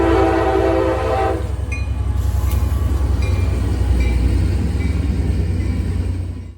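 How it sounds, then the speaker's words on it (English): CSX local L128, a GP39-2 diesel locomotive hauling a single tanker car, sounds a loud sustained horn blast, then rumbles past with steady engine drone and rhythmic wheel clatter. "local L128 with a GP39-2 and a single tanker car."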